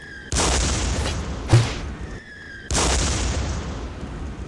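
A mortar grenade launcher in Day of Defeat fires with a heavy boom, then a sharp thump comes soon after. Another loud booming blast follows a couple of seconds later, each one trailing off into a rumble.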